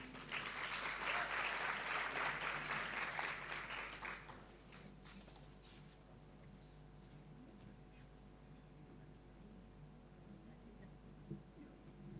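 An audience at a graduation reception applauds as the dean is welcomed to the stage, a loud burst of clapping for about four seconds that tapers into scattered claps and a quiet room.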